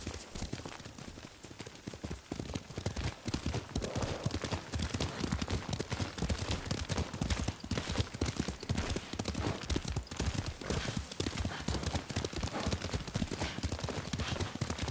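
A horse is ridden in Ghost of Tsushima. Its hooves clip-clop in a brisk, steady rhythm throughout, close and constant, with faint background ambience.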